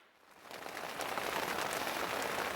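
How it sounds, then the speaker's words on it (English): Steady rain on a mountain campsite, a dense hiss that swells in over the first second and then holds at a constant, moderate level with no voices. "it's now almost noon the next day and it's still raining"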